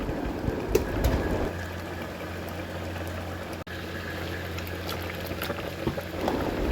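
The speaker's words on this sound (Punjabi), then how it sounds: "ਦੇਖੋ ਰਿੱਝ ਚੱਲਿਆ ਸਾਗ" A pot of saag, leafy greens mixed with cabbage and pumpkin, bubbles and simmers on the stove with a steady low gurgling boil, fairly close, with a few faint clinks and rustles.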